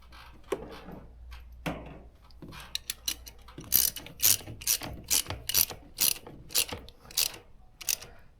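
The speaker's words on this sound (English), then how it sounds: "reach down here, tighten the screw up" A ratchet tightening a screw on the turbo pipe of a Ram 2500, heard as quiet, close, repeated clicking strokes that turn into a steady rhythm of sharp bursts in the second half.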